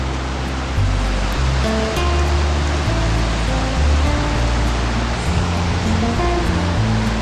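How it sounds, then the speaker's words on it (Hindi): The Yamunotri river rushing through the mountains near a bridge crossing gives a loud, steady roar of turbulent water that holds without a break throughout, with faint low tones beneath. "यमुनोत्री नदी"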